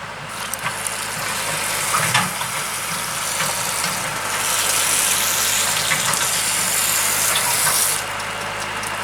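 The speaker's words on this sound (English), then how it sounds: "I'm just going to gently water this" Water poured gently from a hose onto a transplanted Russian sage seedling, a steady broadband gush with some splashing, loud and close, swelling between about four and eight seconds before easing off.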